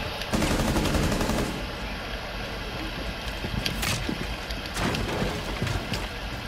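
Gunfire in the video game Rainbow Six Siege, a dense, sustained wash of rapid shots over steady game noise, with a few sharper cracks standing out.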